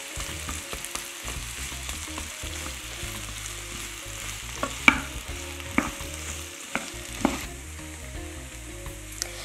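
Red onion cooking gently in a pan over a lowered stove, a soft steady sizzle with a few sharp scrapes and clicks as it is stirred, close and without talk.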